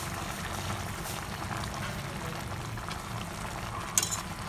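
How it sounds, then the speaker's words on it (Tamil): Broad bean gravy bubbling in a pan on a home stove, a steady soft simmer of liquid with low churning bubbles and a brief small clink near the end, no voices. "பாருங்கள், நல்லா கொதிச்சிருச்சு."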